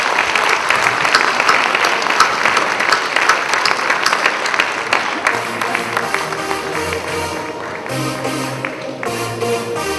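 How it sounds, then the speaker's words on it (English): A crowd at a real estate awards ceremony claps steadily in sustained applause that gradually thins out, with a few sparse claps lingering near the end. "Can you please give him a big round of applause?"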